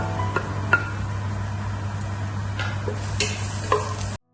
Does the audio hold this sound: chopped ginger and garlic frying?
yes